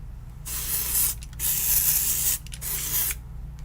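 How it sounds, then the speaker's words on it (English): Three long, loud bursts of aerosol hairspray hiss close by onto a new wig, each lasting about a second, separated by brief pauses. "when a wig is new, don't be afraid to really spray it"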